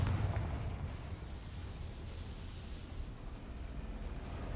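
A Confringo fire spell blast in the video game Hogwarts Legacy, a loud booming burst at the start that rolls into a sustained rumbling, crackling roar.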